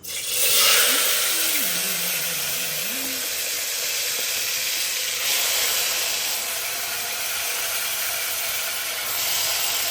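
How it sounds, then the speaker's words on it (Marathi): Oil heating in a pan for biryani in a home kitchen gives a steady sizzling hiss throughout, close and moderately loud, with a faint tonal whine near the start. "तेल टाकून गरम केले."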